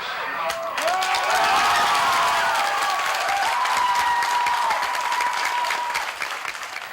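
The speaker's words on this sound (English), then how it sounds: "Purdue students gathered in the Union to anxiously watch the countdown and applaud the return of America to space." Students gathered in the Purdue Union in 1988 applaud and cheer the space shuttle's return to flight, a dense, sustained round of crowd clapping with excited voices that eases off near the end.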